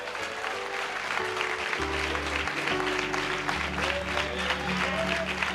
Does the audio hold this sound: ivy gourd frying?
no